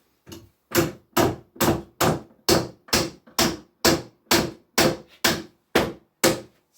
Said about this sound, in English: Grab the hammer.